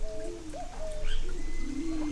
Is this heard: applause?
no